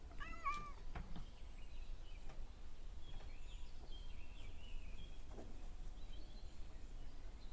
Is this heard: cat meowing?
yes